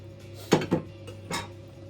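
A cover is set onto a dish before it goes in the oven: two quick close clanks, a short pause, then one softer knock, with no voices.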